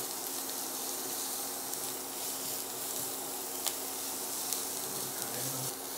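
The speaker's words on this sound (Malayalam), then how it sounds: "സവാള ഒന്ന് ചെറുതായിട്ട് വഴറ്റി എണ്ണ ഒഴിച്ച് അതിലേക്ക് ജിഞ്ചർ ഗാർലിക് പേസ്റ്റ് ഇട്ടു." Onions sauté in hot oil with ginger garlic paste, giving a steady, even sizzle and crackle throughout with occasional faint pops and no talking.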